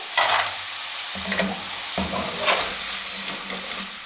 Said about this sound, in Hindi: अब इसी तरीके से दूसरे फ्रेंच फ्राइज हम फ्राई कर लेंगे